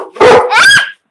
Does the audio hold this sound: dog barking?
yes